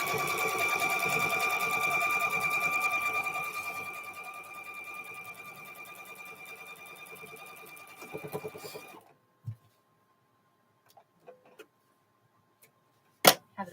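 A sewing machine stitching quilt pieces together hums steadily with a fast, even needle whir for several seconds, then stops, leaving a few faint clicks and taps in near silence.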